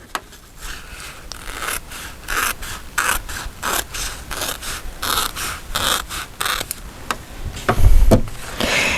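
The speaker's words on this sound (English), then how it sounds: "let's just insert the scissors in the middle, trim my fabric, making sure not to cut the lace" Scissors snip through fabric beside lace trim, a run of repeated short cutting and scraping strokes in an irregular rhythm, close and moderately loud, with no voices.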